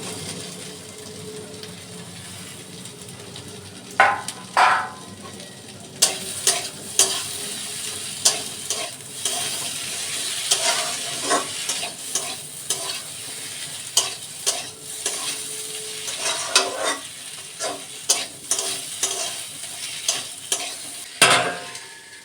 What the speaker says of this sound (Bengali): ফুলকপি ডাঁটা সব একসাথে ভেজে নিচ্ছি।